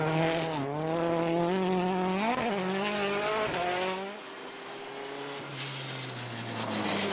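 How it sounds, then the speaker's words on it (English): Ailing Mini rally car engine on a frozen Scandinavian forest stage with studded tyres, its revs rising and falling unevenly with a rough, wavering note, loud and close, then dropping to a lower steady drone. "That is clearly a very sick-sounding Mini"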